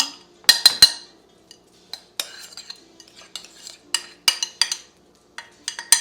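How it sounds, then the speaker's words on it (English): A spoon works onions and butter into a mixture, giving sharp metallic clinks and scrapes against the pan in irregular bursts, close and clear over a quiet background. "I'm just gonna work those onions and that butter inside this mixture that I got going on"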